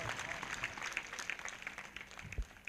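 Congregation at a Sunday church service clapping together in loud applause, a dense spread of handclaps with a voice faintly present underneath.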